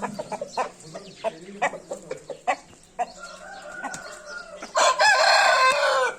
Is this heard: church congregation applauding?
no